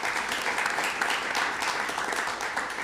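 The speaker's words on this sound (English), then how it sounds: "So let's give him a round of applause." A board of education meeting audience gives a short round of applause for a student, dense steady clapping from a room full of people lasting a few seconds, close and fairly loud.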